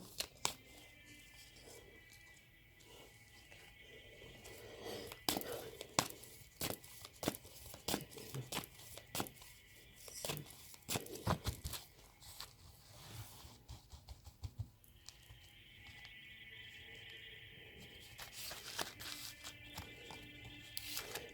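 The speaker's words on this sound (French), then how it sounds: "Alors, je tire les cartes." Tarot cards shuffled and drawn at close range: quick papery riffles and flicks in uneven bursts, fairly faint, with no one talking.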